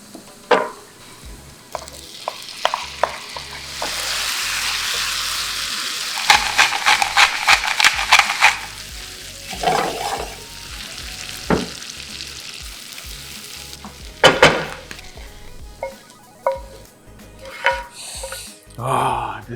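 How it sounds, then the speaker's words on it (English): Onions sizzling and being stirred in a pan until golden brown, a bright frying hiss punctuated by clattering scrapes of a utensil against the pan, close and loud, with gaps of quieter sizzle between bursts. "it's also very important that we saute it until it turns nice and golden brown"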